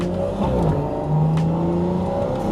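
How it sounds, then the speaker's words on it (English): A full-bolt-on B58-engined car pulls hard through its gears, with a loud, close engine note that climbs in pitch, dips briefly at each quick shift, then rises again. "Listen to them shifts."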